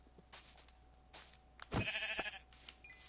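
A sheep in the Minecraft video game gives a short bleat in the middle, with a few fainter game sounds before and after, quiet overall.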